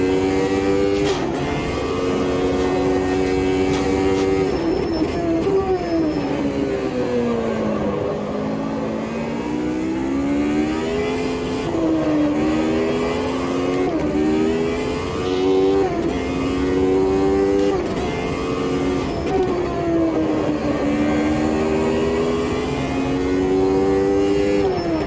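Open-wheel F Gen 2 race car engine in the Automobilista 2 video game, loud and continuous, revving up and down through repeated gear shifts with rising pitch sweeps, dropping sharply under braking for a hairpin before accelerating again.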